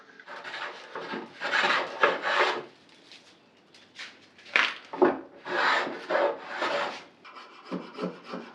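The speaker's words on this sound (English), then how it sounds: "it's basically time to chamfer all the edges so it doesn't leave a harsh" A hand tool works along the edges of a wooden side hall table, chamfering them in bursts of dry rasping strokes. The strokes come in uneven runs with short pauses between them, close and fairly loud.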